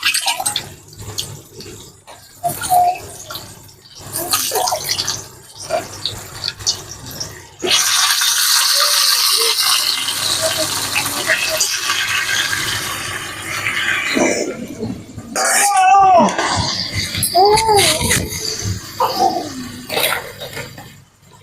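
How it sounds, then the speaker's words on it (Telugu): Fish are rinsed in clean water for a Nellore-style fish curry, with steady running and splashing water and sloshing of fish in a vessel, loud and close, with intermittent clinks and handling sounds. "చేపలను అయితే మళ్ళీ ఇంకోసారి మంచి నీళ్ళలో కడిగి అయితే వేసుకున్నాం"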